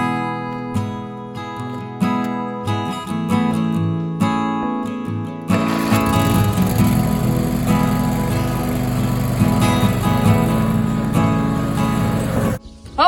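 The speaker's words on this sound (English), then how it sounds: "let's go mow behind the cows real quick." A small engine catches and settles into a loud, steady droning roar, like a lawn mower running nearby.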